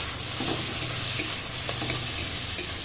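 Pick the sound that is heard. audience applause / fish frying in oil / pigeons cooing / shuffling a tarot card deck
fish frying in oil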